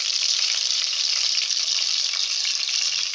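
Fish cooking in a pan over a low flame gives off a steady, even sizzle of frying oil, continuous and fairly loud throughout with no talking.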